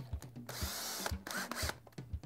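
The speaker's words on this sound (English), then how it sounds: "Drill into the marked punch spot on your running board." A power drill with a 1/8 drill bit bores into a metal running board during a ski bracket install, its motor whining in short repeated bursts with brief pauses between, close and loud.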